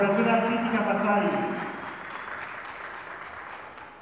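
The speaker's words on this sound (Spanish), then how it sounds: "Merecido el aplauso." Applause from an audience for a children's traditional dance group, starting loud and steady, then thinning and fading over the last seconds.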